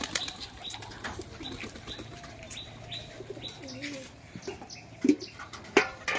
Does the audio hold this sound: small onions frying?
no